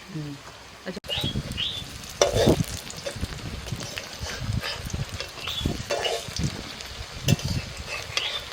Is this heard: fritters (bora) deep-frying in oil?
yes